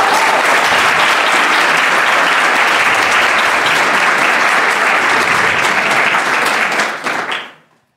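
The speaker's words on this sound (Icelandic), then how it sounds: "mér langar að biðja ykkur að klappa fyrir Sævari" Audience applause at a lecture on a solar eclipse, a dense, loud burst of many hands clapping that holds steady for about seven seconds before quickly fading out.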